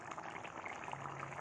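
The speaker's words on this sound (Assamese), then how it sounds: "চাওকচোন উতলি আছে বক বক কৰি" Fish head and papaya khar boiling in a pot, a soft, steady bubbling and simmering hiss at low level with no talk.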